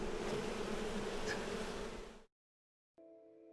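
A dense, continuous buzz of many honey bees close up, cooling their hive, cutting off abruptly into silence before a faint, thinner hum returns.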